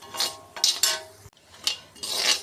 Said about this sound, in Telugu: లో ఫ్లేమ్లో పెట్టుకుని వేయించుకోవాలండి